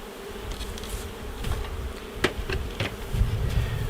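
Honey bees swarm and buzz around an open hive during a beekeeper's inspection, a dense steady hum with a low rumble beneath and a few brief sharper sounds, close and continuous.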